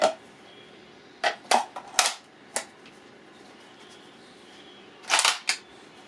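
A Tristar KRX semi-auto shotgun, unloaded, has its bolt cycled and is dry fired: a handful of sharp mechanical clacks and snaps in uneven clusters, close and fairly loud against a quiet room.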